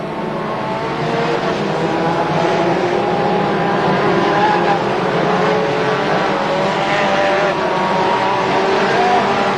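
A field of about 30 BriSCA F2 stock cars roars around the track at Crewe in the 1993 World Championship final. The dense engine noise is loud and continuous, with no voices.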